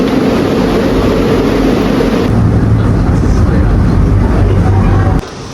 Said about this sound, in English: are going to board a funicular train, which will take us to the top